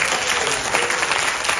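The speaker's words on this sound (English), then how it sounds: "I just want to first a big round of applause for Ms." Audience at a coffee symposium in Kuching giving a dense, continuous round of applause, loud and even from start to finish.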